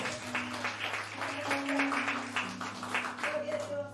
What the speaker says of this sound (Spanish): Dale un fuerte aplauso al Espíritu Santo